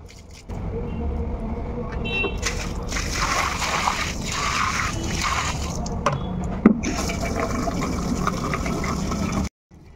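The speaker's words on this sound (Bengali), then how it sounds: "জামা কাপড়গুলো কেচে ধোয়ার পর যে জলটা বেরোচ্ছে আমি কিন্তু ওই ম্যাটের মধ্যে" Laundry rinse water poured out onto a mat outdoors, a continuous splashing, sloshing stream under a voice, stopping abruptly near the end.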